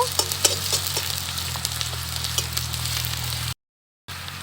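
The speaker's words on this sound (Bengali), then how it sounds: "পেঁয়াজটাকে একটু ভেজে নেব" Chopped onions fry in a pan with a continuous close sizzle and faint crackles over a low hum, cut off by a short silent gap near the end.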